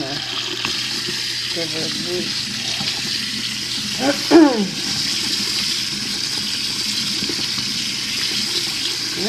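Cold well water runs from a tap in a steady, moderate hiss, with a person talking over it and a short clatter in the middle.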